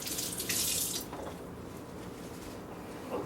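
Kitchen tap water runs into a sink as fresh hydroponic organic basil is rinsed, a loud hissing splash for about a second, then quieter trickling and dripping.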